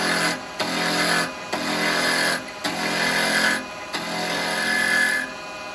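A small carbide chisel cuts wood on a lathe, making a steady rasping, hissing scrape in four long passes separated by short pauses, close and loud with no talking.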